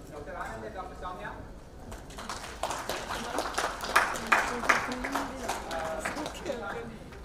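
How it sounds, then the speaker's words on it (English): Applause from an audience at a diabetes and endocrinology research meeting as winners are announced: scattered clapping that builds into sharper, louder claps midway, moderately distant and fairly thin, suggesting a modest room. "please have a round of applause to whoever is winning"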